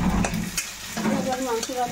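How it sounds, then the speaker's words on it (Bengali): Sliced onions fry in hot oil in a pan for a chicken kosha, sizzling steadily while being stirred, with the scrape of stirring breaking through the hiss. "এদিকে তো কিছুটা পেঁয়াজ একটু দিয়ে নিচ্ছি ভাজার জন্য"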